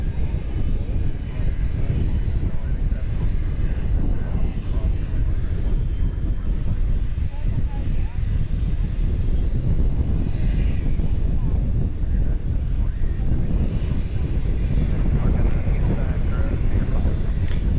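At DFW Airport at night, an airplane taxis toward the terminals, its engines a continuous broad roar mixed with wind buffeting the microphone, steady and fairly loud throughout.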